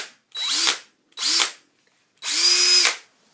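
A DeWalt 20-volt max cordless drill driver runs in three short bursts, each spinning up and winding down, the last held longest, loud and close with silence between.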